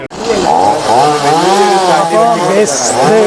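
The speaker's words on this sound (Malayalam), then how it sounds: "ആ വലിയ തടി നമ്മൾ പ്രതീക്ഷയോടുകൂടി കാത്തിരിക്കുന്ന ആ തടിയാണ് ഇപ്പോൾ വെട്ടാൻ പോകുന്നത്" A chainsaw about to cut a large oud (agarwood) log on a plantation in Kerala revs loudly and close, its pitch rising and falling, with speech mixed in over it.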